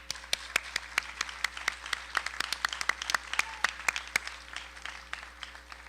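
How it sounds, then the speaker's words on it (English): A graduation ceremony audience applauds parents and families with steady, dense clapping that holds for about six seconds at moderate distance, with no voices over it. "So please, graduates, take a moment and let's applaud them."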